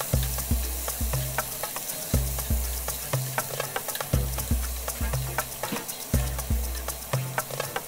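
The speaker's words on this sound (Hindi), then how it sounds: "अब इसमें डालेंगे 150 ग्राम टमाटर, इसे भी थोड़ी देर भूनेंगे।" Chopped tomatoes and coconut fry in fish curry masala for a pomfret curry, a steady close sizzle broken by regular sharp scrapes and clacks of a spatula stirring the pan, with no talk.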